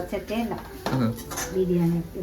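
A metal lid from an appam pan clatters and scrapes as it is handled in a home kitchen while fish curry cooks, with a few close metallic knocks and rattles over a steady background hum.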